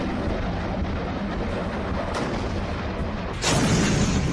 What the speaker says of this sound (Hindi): जब भारत की सारी आर्टिलरी तोपें एक साथ खड़ी होकर फायर करती हैं